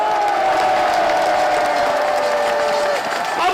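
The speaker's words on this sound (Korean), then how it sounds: "감사의 뜻으로 뜨거운 박수를 한번 보내주십시오" Crowd at a Busan Station rally applauding to honor the parents' and grandparents' generation, steady dense clapping with cheering mixed in, while a voice or sustained tone carries over the top.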